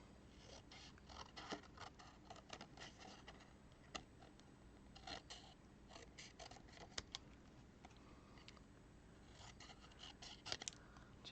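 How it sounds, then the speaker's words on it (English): Paper snips cutting through paper in a quiet room, a run of small crisp clicks and snipping strokes coming in short irregular bursts, close and fairly soft. "I could take my paper snips"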